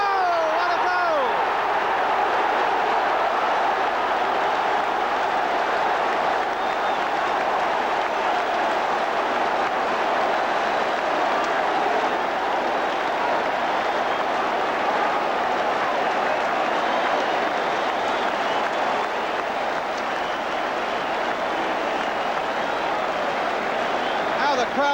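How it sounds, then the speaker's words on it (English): A football crowd roars after Liam Brady's goal, a dense, steady wall of cheering that holds at full volume throughout, with a commentator's voice over it. "The crowd enjoyed that."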